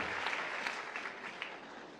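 A church congregation applauds during a seminar closing, a dense, steady wash of many clapping hands filling the room, fairly loud and unbroken throughout.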